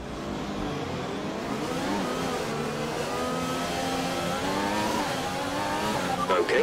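F1 cars pulling away on the formation lap at night in Singapore in F1 2020: a steady, loud engine drone with overlapping rising and falling whines from several cars as they accelerate, sustained throughout with a brief thump at the end.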